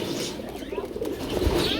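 Pigeons coo in soft, low, continuous murmurs from close by, with faint rustling mixed in.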